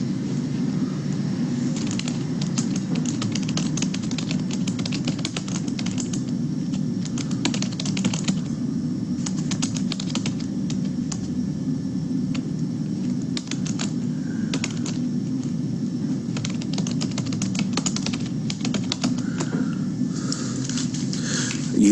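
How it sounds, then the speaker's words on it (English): Steady computer keyboard typing runs throughout, quick irregular key clicks over a constant low hum, with no voices. "I was quiet while I was typing."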